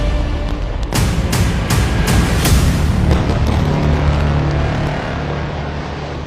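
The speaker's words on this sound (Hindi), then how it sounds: "लेबनान ने उत्तरी इजराइल के शहरों पर अंधाधुंध मिसाइलें दागनी शुरू कर दी हैं" Missiles fired from Lebanon at northern Israeli towns, a rapid run of several sharp booms close together, then a heavy rolling rumble that carries on afterward.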